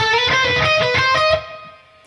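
Overdriven electric guitar plays a brief melodic phrase, then lets the final note ring and decay. No voices.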